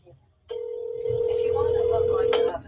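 A phone call placed to a cell phone: a short lead-in, then a steady, fairly loud electronic tone with further tones layered over it, ending abruptly.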